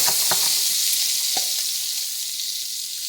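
Garlic sizzles in a hot pan of bacon fat, a loud continuous frying hiss with a few faint clinks and scrapes early on, gradually settling, no talking.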